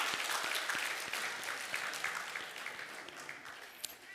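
A church congregation applauds to welcome children coming forward for infant baptism during a Sunday service, a steady dense clapping that carries on for the whole stretch without easing.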